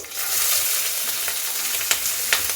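Two medium onions, finely chopped, hit hot oil for a Bihari-style bottle gourd and chana dal curry, giving a steady loud sizzle with a few sharp stirring clicks and no talking.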